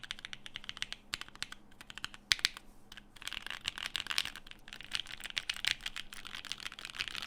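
Typing on a mechanical keyboard with lubed Alpaca switches, rapid close keystrokes in a steady clattering stream with a brief pause partway through.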